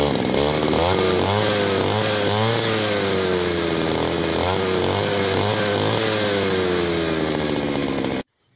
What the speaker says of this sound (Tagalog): at tayo po ay mag-grass cutter na